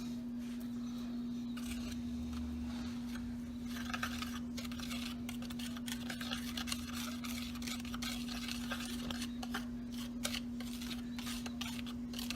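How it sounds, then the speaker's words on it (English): A whisk scrapes and taps through martabak batter flavored with clear vanilla in a bowl. The strokes are quiet and brisk, set against a steady electrical hum, with no voices. "We're simply going to whisk this together."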